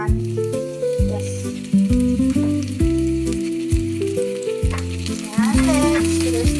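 Chopped onion sizzles in hot olive oil in a pan for Filipino-style spaghetti, a loud continuous frying crackle with no talk, while music plays throughout.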